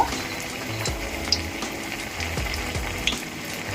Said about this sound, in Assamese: এয়া এইখিনি মই এনেকৈ ফ্ৰাই কৰি আছোঁ।